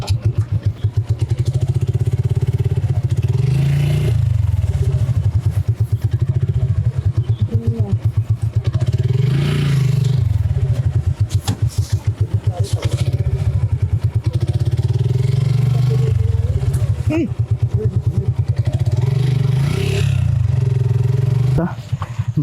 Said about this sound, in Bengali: এতক্ষণ ধরে বৃষ্টির জন্য এখানে কাদার মধ্যে পুরো বাইকের চাকা ঢুকে গেছিলো